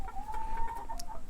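A hen with two newly hatched Ameraucana chicks clucks softly and steadily at close range, a thin sustained peep running alongside the short, repeated clucks, with no voices.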